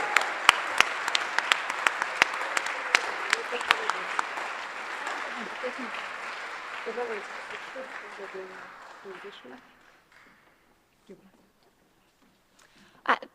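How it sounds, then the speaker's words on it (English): An audience applauds for scholars at a ceremony, with dense clapping for about nine seconds before it fades away. A few scattered claps follow near the end. "Another round of applause for our scholars."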